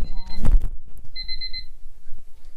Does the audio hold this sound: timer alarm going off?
yes